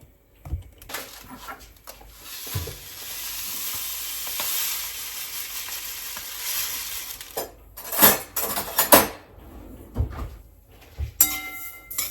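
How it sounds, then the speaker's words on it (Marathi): White sesame seeds dry-roast in a pan with a soft sizzle and scraping stirs. Metal utensils clink sharply against the pan in bursts near the end. "तर आता हे छान भाजून घेते"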